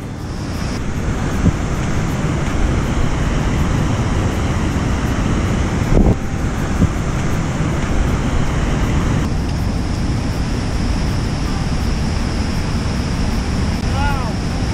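Janet's Foss, a waterfall in wooded Yorkshire Dales countryside, roars as a steady, loud broadband rush of falling water that runs unbroken throughout.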